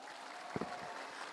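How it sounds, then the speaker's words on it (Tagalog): Crowd at a municipal summer sports fest applauds athletes, faint, diffuse clapping under a noisy room with a brief louder burst midway. "bigyan po sila ng isang malakas na palakpakan"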